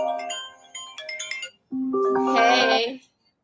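A mobile phone ringtone plays a bright, melodic tone sequence for about a second and a half, then after a short gap a louder, fuller burst of the tune follows, close and clear, with no talk over it.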